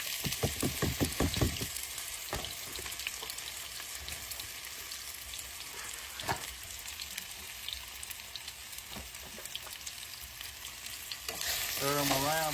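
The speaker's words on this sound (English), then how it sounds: "We're going to drop them in this hot oil." Potatoes seasoned with pepper sizzle and crackle steadily in hot oil, with a few sharper splashes and stirring scrapes near the start and a louder burst of spitting at the end.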